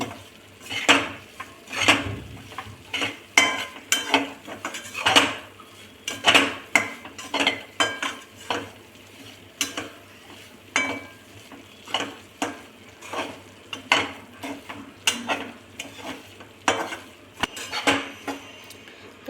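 Wheat flour roasting in ghee in a pan on low heat gives repeated sharp scraping and clinking of a spoon against the metal pan, an uneven rhythm of stirring strokes over a faint background hiss.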